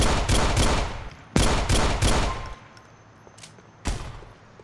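Gunfire in the GTA 4 video game comes as loud, rapid bursts of shots in two quick volleys, then quieter ambience and one more sharp shot near the end.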